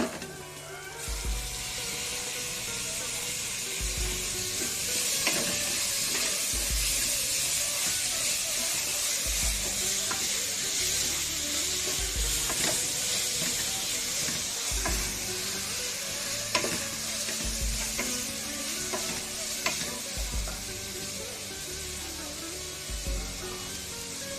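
Tomatoes sizzle steadily in a frying pan for chicken kuzhambu, with a spoon scraping and stirring at a regular rhythm throughout, close and fairly loud and with no talking.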